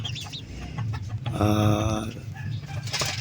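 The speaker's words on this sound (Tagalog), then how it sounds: "O-update natin yung sisiyo natin nung nakaraan. Medyo malaki na sila." Two-month-old chicks, grown fairly large, clucking and cheeping close by in a short burst, with one louder, more sustained call in the middle and background farmyard ambience; no talking.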